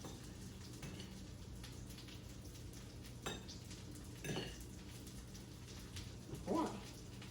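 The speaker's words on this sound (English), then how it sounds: "And just kind of stir it up, toss it in there a little" Sweet and sour chicken being stirred and tossed in a pan, with a few soft utensil clinks and scrapes against the metal spaced apart over a faint, steady background.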